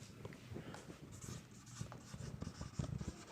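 Chalk or marker writing on a board in a commerce classroom, faint scratchy strokes in short irregular bursts, quiet and close.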